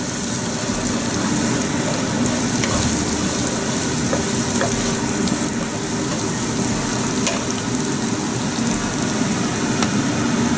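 Whole garam masala spices sizzle and fry steadily in hot butter, a continuous close crackling hiss with faint stirring clicks and no talk.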